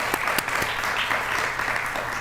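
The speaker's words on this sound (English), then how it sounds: "So, round of applause for you all." Audience at a sustainable food systems celebration applauding in a steady wash of clapping, with a few sharper nearby claps standing out early on.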